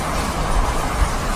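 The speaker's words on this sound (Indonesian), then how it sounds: "Ada kereta api Thomas." A toy Thomas train runs close by with a steady, dense clattering rumble, no voices.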